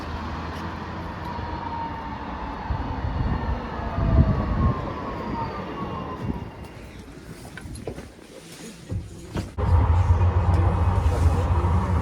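A tram in Dresden, Germany rumbles past nearby with a steady low drone and rising squeal, then the noise thins before a louder engine rumble returns.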